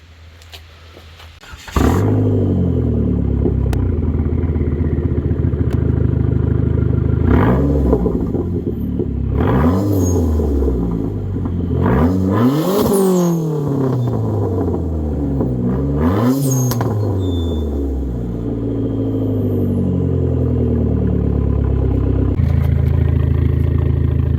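A Dodge SRT-4 Neon engine heard up close from inside the car while driving: it starts with a sharp onset, then loud repeated revs rise and fall through the gears.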